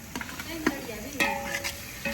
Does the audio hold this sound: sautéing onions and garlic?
yes